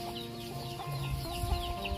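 Chickens clucking around a remote old village house, a steady murmur of soft clucks and calls from several birds mixed into a continuous outdoor ambience.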